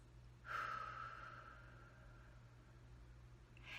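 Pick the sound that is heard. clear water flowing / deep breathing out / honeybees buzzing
deep breathing out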